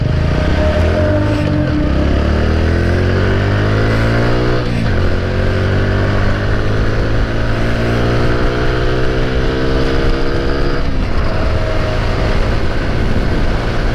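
A 2021 TVS Radeon 110cc motorcycle pulls hard on a top-speed run, its engine note climbing steadily with a couple of gear changes, under a constant loud rush of wind and road noise, with no voices.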